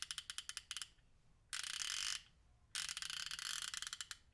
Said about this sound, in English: This is of course the 90 tooth ratchet, and so it's very smooth.